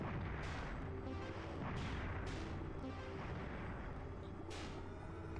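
Rapid enemy gunfire and heavy booming shots from the PlayStation game Shockwave Assault, repeating in bursts over a constant dense rumble.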